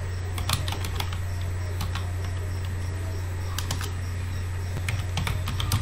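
Short clusters of crisp keystrokes on a computer keyboard as a chapter name is typed, faint and close over a steady low electrical hum, with pauses between the bursts.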